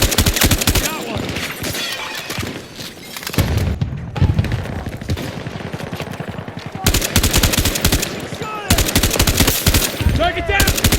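Rapid bursts of AK 5C rifle fire in the video game Battlefield 2042, loud and close, with repeated automatic volleys broken by short pauses and distant battle noise.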